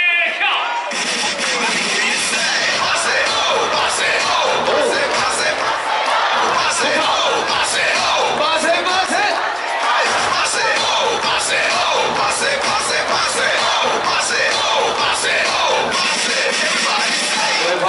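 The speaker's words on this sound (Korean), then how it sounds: "박세아 선수 파이팅의 목소리입니다." Baseball fans in a stadium chant and yell a cheer for batter Park Se-a, a rhythmic massed crowd roar rising and falling in repeated bursts, with amplified voices mixed in.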